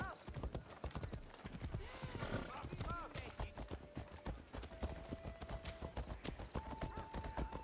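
Quick, rhythmic horse hoofbeats in Assassin's Creed Odyssey clip-clop steadily throughout, with a brief whinny and some electronic tones in the mix.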